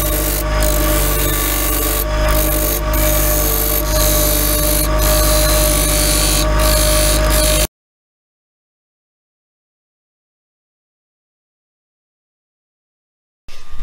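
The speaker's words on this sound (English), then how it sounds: "So what we're going to do now is spin the lathe up" A wood lathe spins a wooden mug blank as a cutting tool takes off excess wood, producing a loud, continuous scraping and rasping whine with rhythmic knocks, then an abrupt cut to silence.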